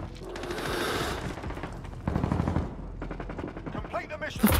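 Rapid bursts of automatic gunfire in Call of Duty Warzone, close and loud, in a few short strings with a voice talking over them.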